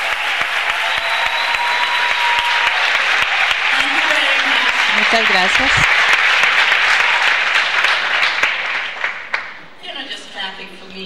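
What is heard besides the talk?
audience applause at a conference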